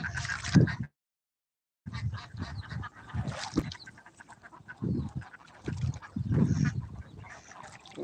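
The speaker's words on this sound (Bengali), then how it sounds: "দেখতেছেন আপনারা হাঁস আর হাঁস" Domestic ducks and geese at a desi duck farm honk and quack in loud, overlapping bursts, a dense flock chorus close by with a brief silent gap near the start.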